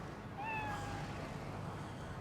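A cat gives one short, thin meow in a TV comedy scene, faint against a steady background hiss.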